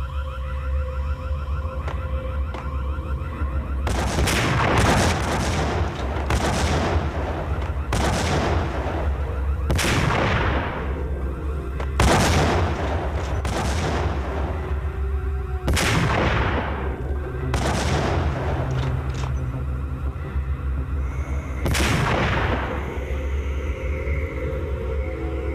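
Repeated gunshots from the Max Payne video game, roughly a dozen sharp loud blasts spaced a second or two apart over a steady low rumble, each with a short decaying tail.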